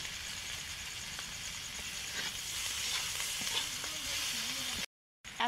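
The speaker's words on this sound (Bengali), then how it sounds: "আর এখন লবণ দিয়ে ভালোভাবে নাড়িয়ে চাড়িয়ে নেব।" Puti fish chorchori being stirred in a pan with salt and oil, a continuous close sizzle with scraping stir strokes, then a brief break near the end.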